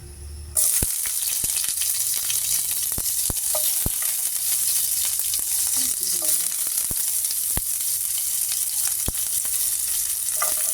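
Chopped onions drop into a little hot oil and start to fry for mixed vegetables in coconut milk. A sudden loud sizzle begins and continues steadily, with a few sharp stirring taps, close and with no voices.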